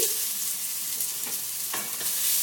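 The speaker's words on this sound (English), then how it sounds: "I'm going to put into my hot pot here 2 shallots that have already been chopped up" Chopped shallots sauté in a hot pot with a steady, bright sizzle and occasional stirring scrapes, close and continuous throughout.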